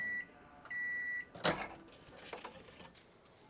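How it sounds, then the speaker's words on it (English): A microwave oven reheating homemade venison hot pockets gives a few short electronic beeps, then a door clunk and handling clatter, with no one speaking. "see how they reheat in the microwave"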